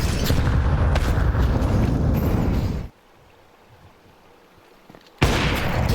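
Two grenades explode in Counter-Strike 2: a loud, roaring blast rumbles for a few seconds, drops to near silence, then a second sharp blast hits hard and keeps going.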